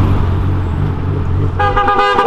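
Over a rumble of nearby traffic, a loud car horn blares near the end, sustained and close.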